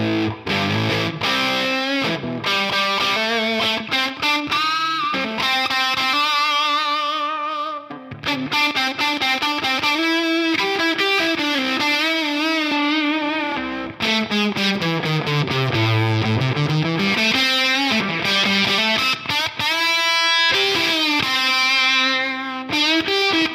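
Electric guitar played through a Stone Age Fuzz pedal on its Fuzz Face circuit, giving loud, continuous distorted chords and sustained notes with sliding bends and brief breakups, and no talking.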